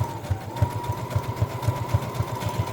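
A sewing machine runs steadily, reinforcing stitching on fabric scraps for a small coin holder or earbud case, with a rapid, even mechanical chatter heard up close and alone.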